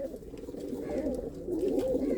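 A pet pigeon, a light-eyed breeding bird from a long-flying loft, coos in a steady, close rolling murmur that swells slightly louder toward the end, with no one talking over it.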